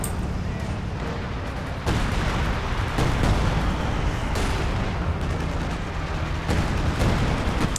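Artillery fire in the strategy game Company of Heroes 2: dense, continuous battle noise with repeated heavy booms and shell impacts at irregular intervals, loud throughout with little pause.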